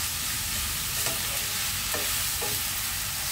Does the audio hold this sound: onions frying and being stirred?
yes